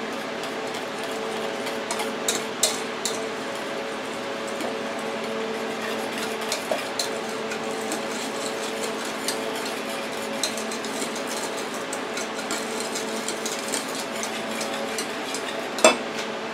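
Pudding batter of milk, sugar and vanilla for a marshmallow pineapple pudding being mixed in a bowl, a steady close swishing with light clinks of the utensil against the bowl and a sharper knock near the end.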